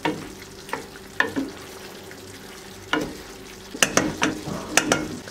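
Sauce for oven-baked chicken bubbles and sizzles in a pot, close by, broken by a few sharp spoon knocks and stirring scrapes.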